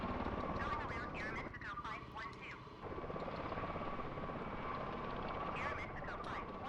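An aircraft in a flight simulator video game in horizontal flight, heard as a steady engine and rotor drone throughout, with a person talking over it.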